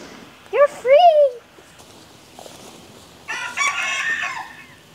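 Chickens calling and clucking nearby in short bursts, including a rising crow-like squawk, with quieter rustling between calls.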